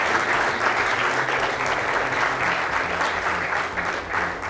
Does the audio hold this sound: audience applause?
yes